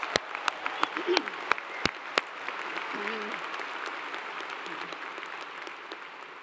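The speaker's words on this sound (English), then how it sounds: "Will you please give a great big round of applause to Alana Yarborough" A university commencement crowd applauds steadily, with several sharp close claps at first, then a sustained wash of clapping and a few faint voices underneath.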